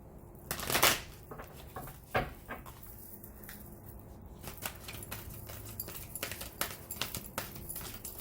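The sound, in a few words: shuffling sticky cards by hand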